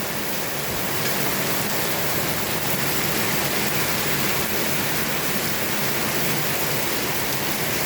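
Steady, dense rain falls in Caramutan, Villasis, Pangasinan, Philippines, a constant broadband hiss that stays even and fairly loud throughout with no voices.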